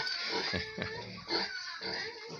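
A sow with her piglets grunting on a pig farm, a steady run of close, low snorts and oinks repeating in uneven rhythm with no talking over them.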